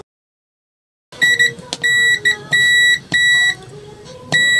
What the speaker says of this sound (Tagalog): Pag tumunog po ang ating tester, ibig sabihin po ito ay may continuity